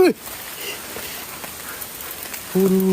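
Heavy rain pours down outdoors near a hospital in Kebumen, a steady broadband hiss of drops on surfaces filling the whole stretch, with brief speech at the start and a short tonal sound near the end.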